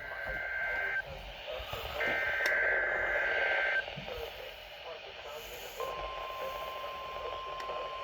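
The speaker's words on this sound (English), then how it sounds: "This is a test of the Weather Service weather radio warning alarm for WWG57 for the Central Highlands of Ohio." A NOAA weather radio warning alarm test tone for station WWG57 in the Central Highlands of Ohio sounds as steady high pitched tones in bursts over a radio broadcast, with an announcer's voice running beneath.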